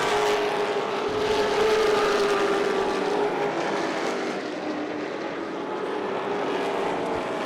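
Late model stock cars roar around Irwindale Speedway during a 40-lap main event, a steady loud engine drone with a passing pitch sweep, no voices.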